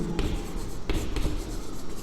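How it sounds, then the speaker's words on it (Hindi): Handwriting during a class 10 polynomials lesson: close, scratchy pen strokes on a writing surface, with a few sharper taps as the strokes begin, and no talk. "तो मैं लिखता हूँ"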